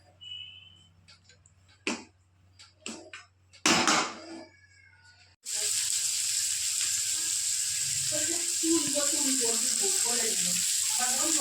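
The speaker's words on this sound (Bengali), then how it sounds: "এইসব তেজপাতা গরম মশলা এইসব দিয়ে পেঁয়াজ দিয়ে ভাজছি এখন" Chicken frying with onion, bay leaf and garam masala in a home kitchen: a few clatters and knocks come first, then a loud, steady sizzle fills the second half.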